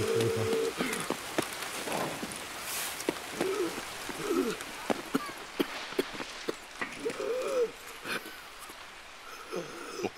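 Steady rain hisses across a scene in the video game Escape From Tarkov, with scattered sharp ticks and soft cooing bird calls layered over it. A faint voice comes through now and then.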